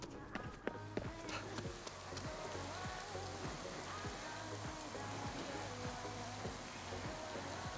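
Steady, faint rain patters continuously while quick, regular footsteps run through it, in the video game Ghostwire: Tokyo.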